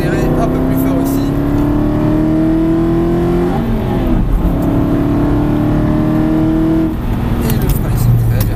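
A loud car engine revs up steadily, its pitch climbing, dropping briefly at a gear change, then climbing again, close and continuous.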